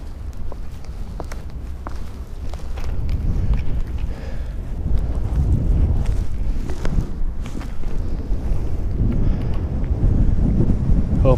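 Gusty wind rumbles across the microphone throughout, steady and close, with faint scuffing steps underneath.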